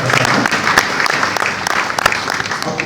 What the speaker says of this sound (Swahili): Hebu pigeni ladies makofi.